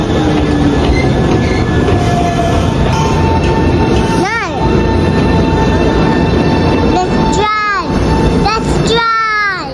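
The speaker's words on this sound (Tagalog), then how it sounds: "Hintay na kami ng train." A train at a station in Japan rumbles loudly and steadily nearby, with metallic wheel squeals rising and falling, a few rail clanks and a hum of platform noise throughout.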